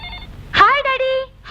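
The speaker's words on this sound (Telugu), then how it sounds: "అదిగో డాడీ ఫోన్ చేసినట్టున్నాడు" A telephone rings briefly in a Telugu film scene, a single electronic ring standing out clearly with steady tones, cut off as another starts.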